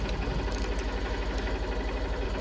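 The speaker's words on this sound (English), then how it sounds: "You may notice the engine is running." A Honda CB125F motorcycle engine idles warm, a steady low mechanical churn with a fast, even ticking rhythm, close and continuous with no voices.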